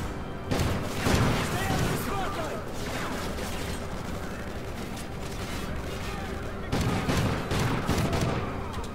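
Shotgun fire in Call of Duty: Ghosts, several heavy booming blasts with sharp bursts near the start and again later, over continuous loud battle noise.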